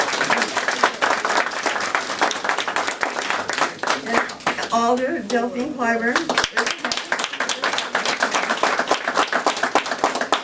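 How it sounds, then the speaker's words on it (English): Applause at a 2016 press conference, steady dense clapping from a crowd running throughout, with a voice speaking briefly over it in the middle. "give him a round of applause"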